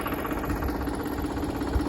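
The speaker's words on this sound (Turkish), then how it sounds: "Traktörümüz 2010 model TD65 ise" A steady 2010 TD65 tractor engine idles nearby with a low, even rumble and slight vibration, running alone without any speech.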